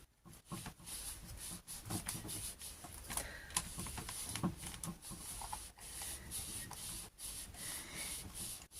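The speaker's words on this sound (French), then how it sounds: "Je fais pénétrer ma colle sur mon papier." Paper being rubbed by hand to press glue into it while making a pocket letter craft, a soft continuous close scratchy rubbing with small strokes and light handling noises throughout.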